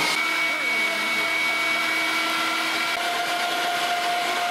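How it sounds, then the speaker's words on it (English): A food processor grinds black drum fish with green onions, running as a steady, loud, continuous whirring motor hum with no pauses. "All right, so we got our black drum ground up."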